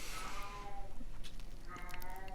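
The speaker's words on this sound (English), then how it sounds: "That's my cat, if you can hear that in the background." A pet cat moans from somewhere off in the house, two drawn-out, wavering cries with a brief lull between them, faint and distant beneath a quiet room.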